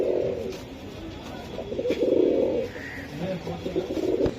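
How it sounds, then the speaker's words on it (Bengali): Green-necked Giribaz high-flyer pigeons coo nearby in low, throaty rolling bursts, several overlapping calls over a steady background hum, with no talking. "এই 500 টাকা পিসের কবুতর কিন্তু এগুলা চাইলে আপনারা সংগ্রহ করতে পারেন"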